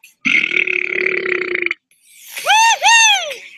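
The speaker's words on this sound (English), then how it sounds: "Celebratory burps it is, then." A loud, close, drawn-out burp rumbles for about a second and a half, followed after a short pause by a squeaky, warbling electronic-sounding cry.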